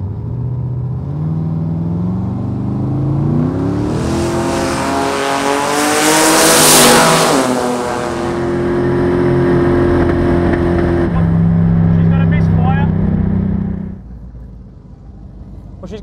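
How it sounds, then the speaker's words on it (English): A 1000-horsepower forced-induction drag car builds boost on the line and launches down a dragstrip, its loud engine roar rising and revving steadily for about fourteen seconds before backing off, with some speech underneath. "Stall this baby up and get this thing launching."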